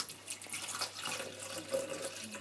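Liquid ingredient for cookies being poured from a container into a measuring vessel, a steady close trickling splash lasting throughout, with no voices.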